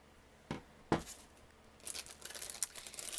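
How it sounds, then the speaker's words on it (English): Scissors trim the paper edges of a handmade card and treat box, a couple of distinct snips followed by soft crinkling and cutting rustles, quiet and close. "I'll just trim those edges a little bit."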